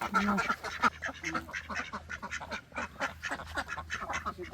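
A flock of ducks quacks continuously in a busy, overlapping chorus, close and fairly loud, with rapid repeated calls filling the whole stretch.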